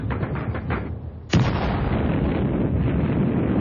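Russian artillery fire on the Eastern Front in the First World War, with a rumbling barrage that breaks into a sudden loud blast halfway through, followed by a dense, sustained roar of gunfire and explosions.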